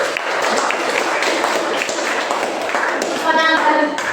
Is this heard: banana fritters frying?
no